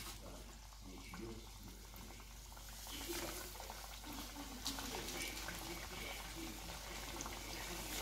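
Potato galettes fry in a pan of oil with a soft, continuous sizzle. The sound is faint and steady and grows slightly fuller midway.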